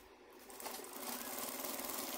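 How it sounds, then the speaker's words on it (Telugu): A sewing machine stitching a girls' long parikini blouse, a steady close mechanical whirr that builds after a brief start and runs on without talk. "ఇప్పుడు దీని మీద మనం కుట్టు వేసుకోవాలి."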